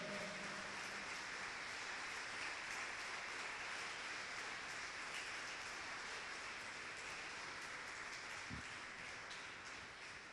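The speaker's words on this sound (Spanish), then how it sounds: "Denle un aplauso fuerte al Señor." Church congregation applauding loudly in a steady, dense wash of clapping that fills the whole stretch without letup, with no voices standing out.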